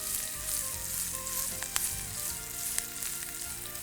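Green chilies, ginger and cashew nuts fry together in a pan, making a constant close hiss of sizzling with a few sharp pops and light stirring taps, and no voices.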